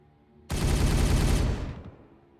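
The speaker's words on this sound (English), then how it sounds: "Just a few more shots from me death gun, and this will all be over." A burst of gunfire from a death gun in the Warhammer 40K Regicide video game, a loud, dense one-second volley that starts abruptly and cuts off, heard alone with no talk.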